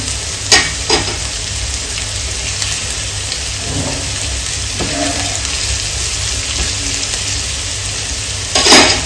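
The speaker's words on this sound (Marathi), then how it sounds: "यांना फास्ट गॅसवरच फ्राय करून घ्यायचं आहे।" Garlic, ginger and green chilli fry in hot oil over a high gas flame, a steady close sizzle with occasional stirring scrapes and louder bursts near the start and end.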